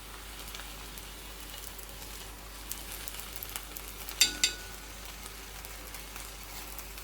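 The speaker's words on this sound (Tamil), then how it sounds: "நான் இப்போ கொஞ்சமாக நெய் விட்டுக்கிறேன்" A sweet coconut dosa fries in ghee on a pan, giving a soft, steady sizzle close by with a couple of small clicks midway. No one speaks.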